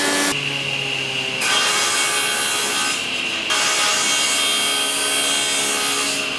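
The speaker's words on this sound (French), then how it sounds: "c'est la scie" Workshop saw cutting through wood in a craft training centre, a loud continuous grinding rasp in long sustained passes that start and stop abruptly.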